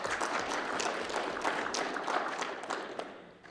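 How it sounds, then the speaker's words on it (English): An audience claps in a dense, steady patter at a regional state address, the applause holding evenly for a few seconds before tapering off slightly at the end. "Can we give them a hand of applause there?"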